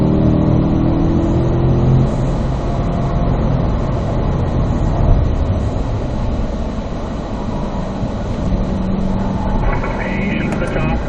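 A Corvette engine pulling hard in fourth gear on a racetrack, a loud sustained roar with steady road and wind rumble heard from inside the car, with a voice talking over it.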